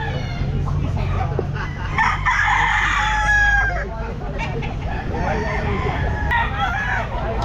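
Stag roosters crow at a busy pet market, several drawn-out crows rising over a crowd murmur with occasional clucks, and voices talk nearby.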